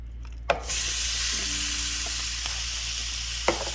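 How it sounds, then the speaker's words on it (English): Shrimp land in a hot pan with oil and sizzle loudly and steadily, with a sudden burst as they go in and a few soft clicks of handling, close up and without talk. "So you're going to let your pan heat up, add in your shrimp"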